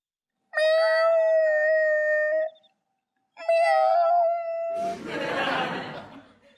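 A man imitates a cat with two long, drawn-out nasal meows, loud and close, then breaks into a burst of breathy laughter.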